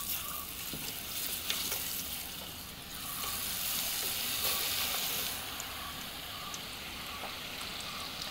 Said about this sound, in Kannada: ಇವಾಗ ಈ ಬೇಯಿಸಿದ ಗೆಣಸನ್ನು ಹಿಟ್ಟಿಗೆ ಹಾಕೊಂಡು ಎಣ್ಣೆಗೆ ಬಿಡುವಂಥದ್ದು